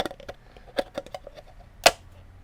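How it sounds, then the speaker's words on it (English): Scissors snip drainage holes in plastic seedling cups in a series of short, sharp clicks and crunches, with one louder cut near the end, close up and without talk. "I literally cut some drainage holes"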